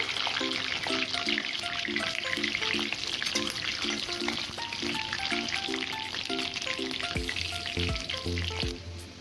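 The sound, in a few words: capsicum frying in a pan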